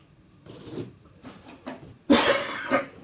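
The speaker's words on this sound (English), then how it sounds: "fighting a bit of a cough" Several quiet coughs and throat clearings from one person indoors, followed by a sharper, louder cough burst near the end.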